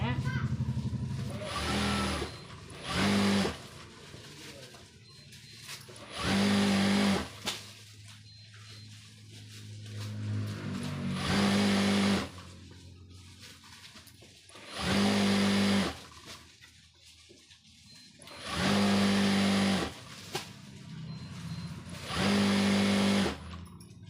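An electric sewing machine stitching a nightie runs in about six short whirring bursts with pauses between them, while a person talks through the gaps.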